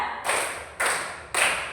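Students in a classroom clap hands together in a counting rhythm game, three sharp group claps spaced evenly, each with a short ringing decay, fairly loud and close with no voices over them.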